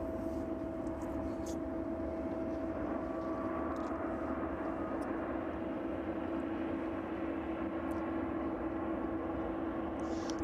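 An airliner approaching East Midlands Airport on a chilly evening drones as a steady, distant engine roar with a sustained tonal hum, unbroken and with no talk.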